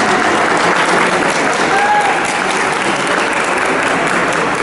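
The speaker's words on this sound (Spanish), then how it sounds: "un aplauso por favor al maestro Carlos Guzmán" Sustained applause from a conference audience welcoming a guest lecturer on paranormal topics, dense and steady throughout at close range, with a faint whistle-like tone briefly audible midway.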